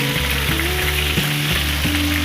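Onion and garlic sautéing in rendered chicken fat for chicken curry, a loud, close, continuous sizzle with crackling spatter, while low background music tones run underneath and nobody speaks.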